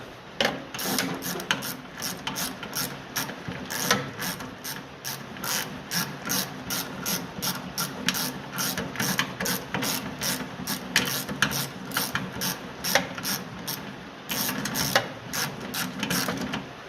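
Ratchet wrench clicking steadily as a longer bolt is tightened on the front axle of a 1955 Ferguson 20 TED TVO tractor, close and continuous, repeated rapid pawl clicks with no talk.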